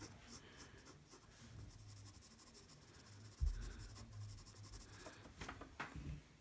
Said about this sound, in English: I'm just gonna do some shading under in here.